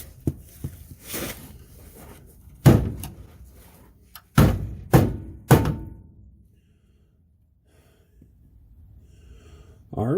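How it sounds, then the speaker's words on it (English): Metal banging on a car's floor tunnel from underneath in a home yard garage, a few loud separate thuds and clangs with brief voices and gasps between them. "Let's go underneath and bang that tunnel up a little bit here."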